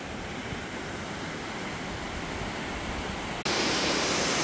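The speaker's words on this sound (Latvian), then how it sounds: "Un tas ūdens kritums re, kā aiziet lejā." A waterfall at Bled, Slovenia pours down in a steady, dense roar of rushing water that stays loud and unbroken throughout, growing brighter near the end.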